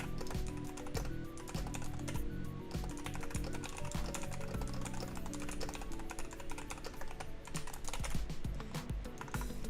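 Fingers type rapidly and continuously on a computer keyboard, a faint, dense patter of key clicks with no pauses.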